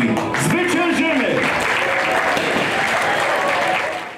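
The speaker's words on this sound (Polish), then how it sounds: "Proszę o oklaski." Crowd applause at a Polish mayoral election rally in Katowice, a dense, loud wash of clapping that swells and holds steady, with a voice speaking over the start before it fades slightly at the end.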